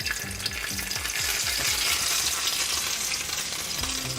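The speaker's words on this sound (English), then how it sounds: "the splattering comes from the oil getting inside, touching the meat and the cheese, and it's kind of splattering" Beef and cheese taquitos fry in hot oil with a steady, loud sizzle and crackling splatter throughout, and a few rhythmic low knocks near the start.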